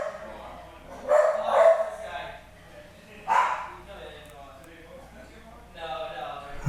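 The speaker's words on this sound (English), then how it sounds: "Dogs are barking" A dog barks a few times in a home kitchen, sharp bursts spaced across a few seconds amid low room noise, with people talking quietly in between.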